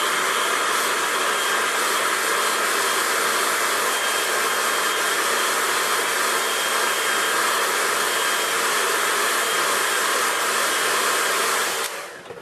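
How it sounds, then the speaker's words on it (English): A hair dryer blows steadily and loudly over a watercolour landscape painting, a constant whooshing roar that holds for about twelve seconds before cutting off near the end. "if I just give that a quick dry"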